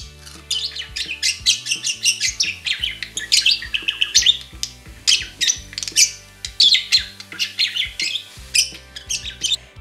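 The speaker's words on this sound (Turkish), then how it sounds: "Erkek muhabbet kuşları kimi zaman öğle saatlerinde, kimi zaman gün batımına doğru başlarını hafif öne eğerek mırıldanır gibi şu şekilde" A male budgerigar warbles a busy, continuous song of rapid chirps, squawks and twittering trills, loud and close, with no voices.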